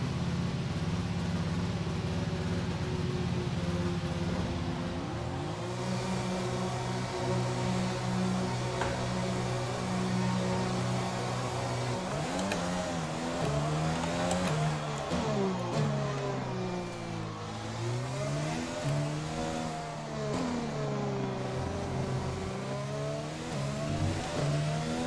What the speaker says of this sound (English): Engine fired.